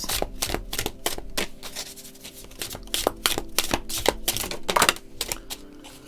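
Tarot cards are shuffled close by in quick, rapid riffles, a dense flutter of papery clicks with small pauses between bursts, fairly loud and alone without speech.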